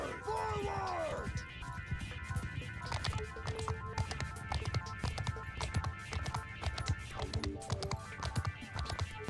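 Hooves of mounted horse archers gallop without a break through a Bannerlord battle, a dense thudding clatter mixed with the clash and noise of combat, with voices talking over it.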